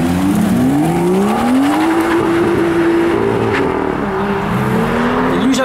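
A red competition Porsche accelerates hard nearby at a car meet, its engine roaring loudly and climbing in pitch through a sustained rev, with a faint squeal of tires under the roar.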